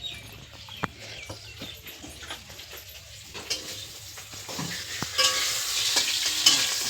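A fish head fries in a pan over low gas, giving a soft steady sizzle with scattered clicks and taps, swelling a little louder toward the end.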